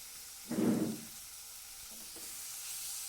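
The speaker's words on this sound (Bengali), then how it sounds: "যতক্ষণ না মশলা থেকে তেল ছাড়ছে ততক্ষণ এটাকে ভালো করে কষিয়ে নেব।" Spice paste (masala) fried in oil for spinach paneer gives one short, fairly close sizzling burst lasting about half a second, then fades to a faint background hiss.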